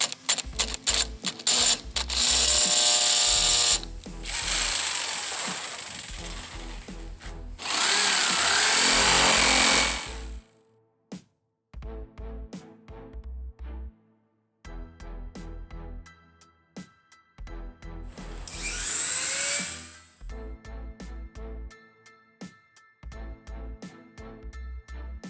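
Electric jigsaw cutting an Aston Martin sign out of wood, heard in repeated loud bursts of buzzing, rattling cutting separated by pauses and lighter clicking mechanical handling, with no talking.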